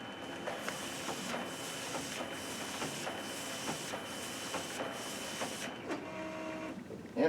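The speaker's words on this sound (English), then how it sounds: "I'm going to scan both sides, and we'll go ahead and read both sides at the same time" A Simple Scan document scanner feeds and scans a double-sided page, giving a steady mechanical whirr with rhythmic clicks and roller pulses, then a brief stop and a final clunk.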